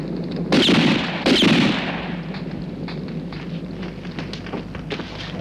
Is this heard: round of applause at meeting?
no